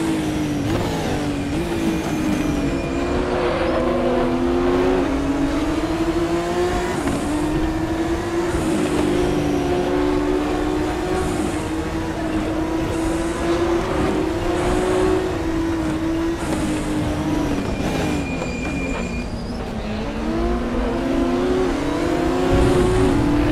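Race car engine in the RaceRoom Racing Experience video game drones steadily and loud throughout, its pitch rising and falling through gear changes and corners with no talk over it.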